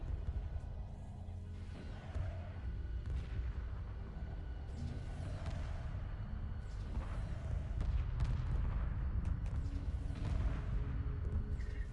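Spaceship weapons firing in Homeworld Remastered during a space battle with assault craft and heavy missile frigates, a steady dense barrage of muffled booms and repeated shots at moderate, distant-sounding level.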